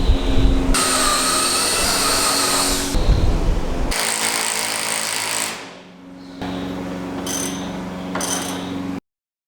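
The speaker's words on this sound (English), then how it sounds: "It's not often you need an angle drill," An angle drill bores into a 2x6 on a pallet-built chicken coop with loud, steady whining bursts that stop, restart, and trail into quieter drilling and a short pause, with no talking.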